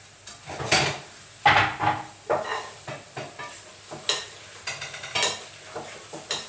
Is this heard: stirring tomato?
yes